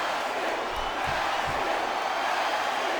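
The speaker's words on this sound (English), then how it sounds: "I'm not sure I agree with what the crowd is chanting, JR, but I guess it's their right." A game arena crowd in WWE SmackDown vs Raw 2008 roars in a steady, dense wash throughout a wrestling match, loud and continuous with no clear beat.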